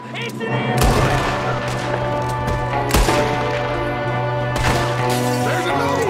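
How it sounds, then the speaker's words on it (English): Gunfire crackles through a Red Dead Redemption 2 ambush shootout, with repeated loud shots and bursts over a constant low drone and music, while characters shout. "There's another one shooting from the window!"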